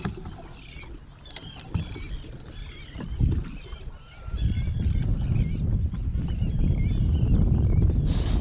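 Seagulls squawk and cry repeatedly in a noisy chorus, with a rumbling wind or water wash growing louder beneath them.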